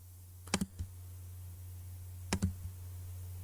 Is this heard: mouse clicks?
yes